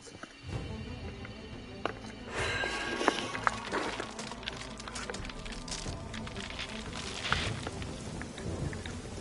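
A thunderstorm with lightning in the Stranger of Paradise Final Fantasy Origin video game: steady heavy rain with several sharp thunder cracks and rumbles, continuous and fairly loud throughout.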